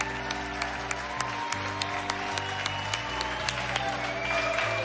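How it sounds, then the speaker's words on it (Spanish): Audience applause on a televised singing competition knockout round, loud sustained clapping from a large studio crowd lasting the whole stretch, with music and a voice underneath. "Este aplauso"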